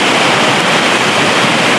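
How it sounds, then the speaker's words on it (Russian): Waterfall in wild Karelia roaring steadily and loudly at close range, a dense unbroken wash of falling water with no voices. "Вот такой вот водопад."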